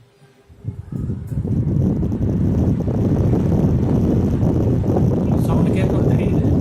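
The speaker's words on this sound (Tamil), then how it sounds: "ப்ளோயரோட சவுண்டு நல்லா கேட்கும்" A household air conditioner's blower fan runs after its filter is refitted following cleaning, a steady, loud, broadband whoosh that rises in the first second and then holds constant.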